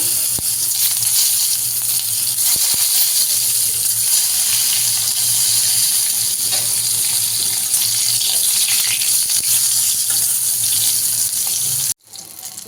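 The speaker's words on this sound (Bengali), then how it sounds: "এবার আমি বেগুনগুলোকে ভেজে নেবো" Eggplant pieces fry in oil with a loud, continuous bright sizzle and crackle that holds steady before cutting off abruptly near the end.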